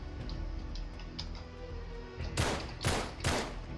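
A run of light ticking clicks gives way to three loud, booming gunshots spaced about half a second apart in the Uncharted 3 video game.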